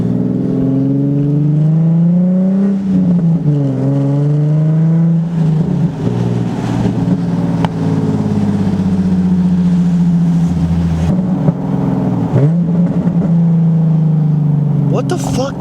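An Infiniti G37 fitted with a custom exhaust revs up and down repeatedly, its deep, loud drone rising and falling close by throughout.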